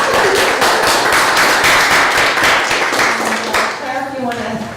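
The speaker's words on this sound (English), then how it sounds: "we'll give a round of applause" A gallery audience at an artist talk gives a brisk round of applause that fades after a few seconds, with a voice starting to speak as the clapping dies down.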